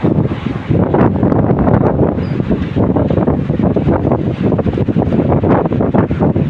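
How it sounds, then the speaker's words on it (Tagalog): Steady, strong wind buffets the microphone throughout, a continuous loud roaring rumble with no voices. "Medyo mahangin po."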